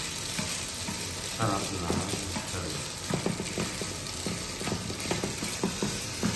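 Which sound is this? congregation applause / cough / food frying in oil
food frying in oil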